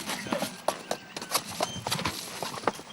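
A horse's hooves clip-clop irregularly down slippery steps, sharp close knocks in an uneven, cautious rhythm, with faint background noise and a brief whinny-like sound.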